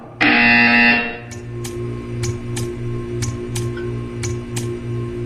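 A loud electronic buzzer sounds for about a second, then stops, followed by a series of sharp, evenly spaced ticking clicks over a low hum, in the video game Portal 2.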